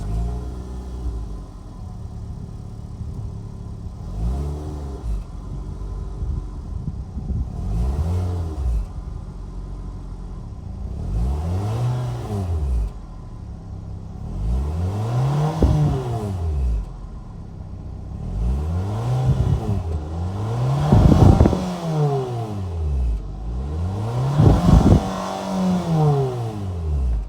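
A 2023 Mitsubishi Outlander's 2.5-liter inline four-cylinder is revved repeatedly while parked, each blip rising and falling in a steady series of swells that grow louder toward the end, heard up close with no talking.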